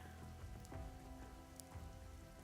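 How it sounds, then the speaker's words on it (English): Steady rain falls over a town, a dense, even hiss of drops on surfaces with occasional louder splashes, soft and continuous with no voices. "It never stops raining."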